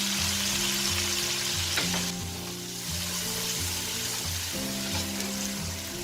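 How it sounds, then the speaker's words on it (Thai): Small battered fish frying in hot oil, a steady dense sizzle heard close and continuous throughout, with a low steady hum underneath. "แล้วให้เรานะใส่ปลาลงทอดได้เลยค่ะ"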